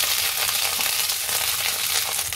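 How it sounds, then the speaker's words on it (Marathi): Eggplant sautés in hot oil in a pan as a steady, dense, close sizzle. It holds at an even level throughout with no talking. "वांगी परतून होता तेलावरती"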